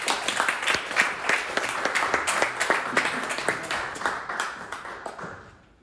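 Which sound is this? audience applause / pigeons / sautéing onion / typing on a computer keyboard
audience applause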